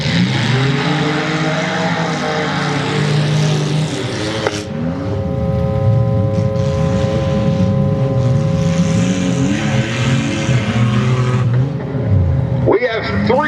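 Three demolition derby cars race in a second-chance heat at a Ludington, Michigan derby, engines roaring loud and unbroken across the whole stretch, with revving and shifting pitches over the constant din.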